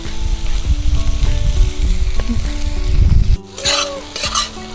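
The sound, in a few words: stirring wild chai greens in a pan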